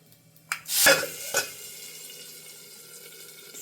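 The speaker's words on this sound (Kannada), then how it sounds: "ಸೊ ಇದಕ್ಕೀಗ ನಾವು ಒಗ್ಗರಣೆ ಹಾಕ್ಕೊಳ್ವಾ" A tempering of spices dropped into hot oil for ambate gojju, a hog-plum relish: a sudden loud sizzling burst with a clink of utensils, then a softer hiss that slowly fades.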